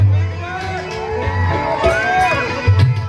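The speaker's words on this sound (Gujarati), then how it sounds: "બે હાથ ઊંચા કરી જોરદાર તાળીઓથી વધાવો" A crowd at a Gujarati lok dayro folk music night cheers and whoops for the performers. The noisy, rising and falling hubbub runs for about three seconds over tonal, music-like sound.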